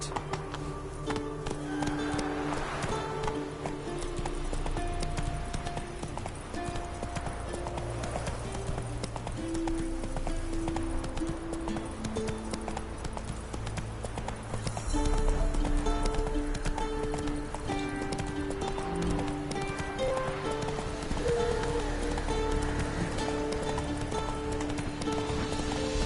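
Galloping horse in the video game The Witcher 3, hooves clip-clopping steadily throughout over a dense bed of game music and ambience, with a brief voice calling out.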